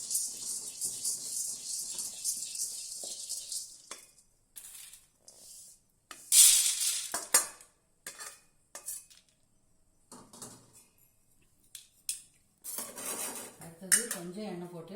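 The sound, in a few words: dry roasting roasted chana dal and pepper in a pan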